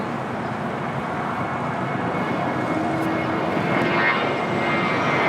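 Jet engines of an Airbus A321neo airliner roar steadily at Los Angeles International Airport, loud and continuous, with a broad rumble that swells slightly toward the end.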